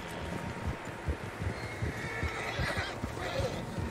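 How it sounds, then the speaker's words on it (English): Several horses in a video game whinny and snort amid soft hoof clops and faint rustling, with a quiet ambient outdoor bed. "Horses, quite a few of them."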